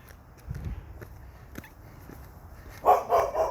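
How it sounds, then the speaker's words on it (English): A dog barks a few times in short bursts on a walk near trees, with a highway in the distance, over quiet footsteps. "There's a dog."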